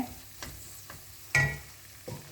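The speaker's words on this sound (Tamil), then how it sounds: "நெருப்பு குறைச்சி வச்சுட்டு இதையும் எண்ணெயிலே வதக்கிக்குங்க." Ground coriander and turmeric for a fish curry sauté in hot oil over low heat: quiet sizzling with a few soft stirring scrapes and one sharper clink of the spoon against the pan.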